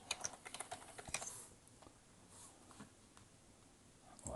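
Typing on a computer keyboard: a quick burst of close key clicks, then a pause and scattered lighter taps, faint in a quiet room with no talking.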